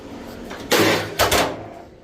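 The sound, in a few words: aluminium car door from Robin Reliant handled onto scales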